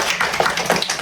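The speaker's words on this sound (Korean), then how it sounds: "박수로 이래 합시다" Villagers at a village meeting clap in a brief, dense burst of overlapping hand claps. The clapping is fairly close and steady throughout.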